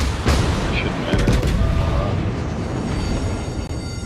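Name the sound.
naval guns firing in a warship video game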